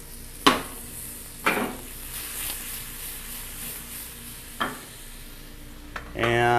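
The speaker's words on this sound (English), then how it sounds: "We just take our pork chop and we're going to put it in a hot saute pan." A marinated pork chop fries in a hot sauté pan with a steady background sizzle, broken by a few sharp metallic clanks of utensil against pan and a louder burst of sizzling at the end.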